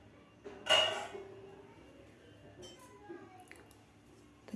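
A lid comes off a pan of cheese garlic bread on a griddle: one loud metallic clatter and scrape, then faint clinks and quiet kitchen sounds.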